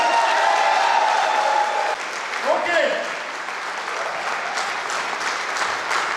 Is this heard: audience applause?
yes